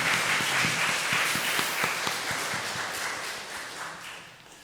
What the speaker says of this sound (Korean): 박수를 한번 하나님께 올려드리겠습니다.